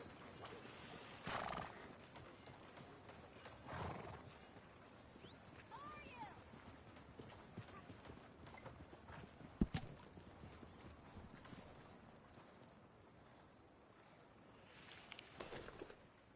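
A horse in Red Dead Redemption 2 gives a few short neighs spread apart, with faint clip-clop of hooves and soft ambient noise between them. It is quiet overall, and one brief sharp knock cuts through near the middle.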